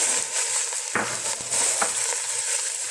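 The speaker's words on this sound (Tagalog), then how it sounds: "Ilagay na natin ang ating meat." Meat hits a pan of sautéed, reddened onions for a home-style nilaga, giving a steady close sizzle with a few stirring scrapes and soft clatters over the frying hiss.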